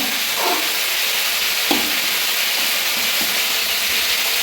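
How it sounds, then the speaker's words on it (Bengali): Cauliflower frying in a pan, a steady loud sizzle with occasional stirring scrapes and no talk. "ফুলকপি ভেজে নিচ্ছি"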